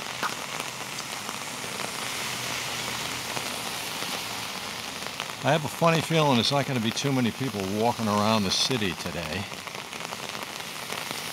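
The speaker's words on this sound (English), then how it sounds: "because it's raining very heavily" Steady hiss of heavy rain falling on hard surfaces of a city street in Norwich, Connecticut, all the way through, with someone talking over it in the middle.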